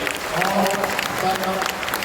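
Short burst of audience clapping in Bapu Sabhagar auditorium in Patna, a dense patter of many hands filling the hall, moderately loud and brief.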